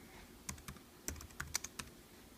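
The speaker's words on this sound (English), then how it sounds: "Maybe I'll type it in here." Quiet, close computer keyboard typing in a short irregular run of individual key clicks, with no speech.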